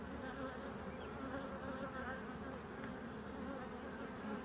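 Honeybees buzzing steadily around an open hive during an inspection, a dense, continuous hum of many wings, fairly soft and even throughout.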